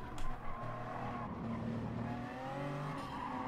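Race car in a video game skidding off track at the Nürburgring Nordschleife, engine droning under a sustained tire squeal and scraping noise, with a short thump at the start.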